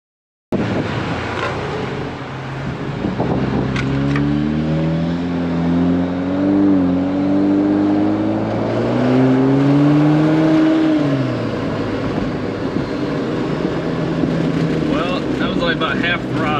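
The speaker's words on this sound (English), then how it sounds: "About half throttle. Acceleration is definitely noticeable." Jeep Wrangler JL with a JB4 tuner accelerating at half throttle, the engine note rising steadily in pitch from inside the cabin, continuous and fairly loud with road rumble beneath.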